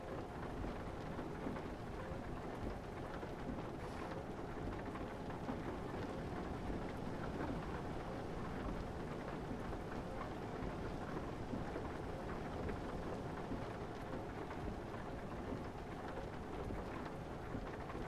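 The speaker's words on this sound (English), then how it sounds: "Thunder." A thunderstorm in a PC truck-driving game, with steady heavy rain hissing throughout and deep thunder rumbling beneath it, loud and unbroken for the whole stretch with no talking.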